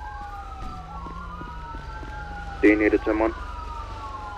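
Emergency vehicle sirens sound at a police scene, several wailing and sweeping tones overlapping at moderate level, with a short radio voice cutting in partway through.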